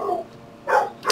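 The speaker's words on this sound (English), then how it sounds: "Yes, my dogs are barking." Pet dogs give two short, sharp barks close by, in a home with no talk during the barks.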